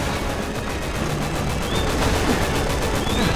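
Rapid automatic gunfire in the video game Resident Evil 6 crackles in quick regular bursts, loud and dense, with a few faint in-game sound effects mixed in.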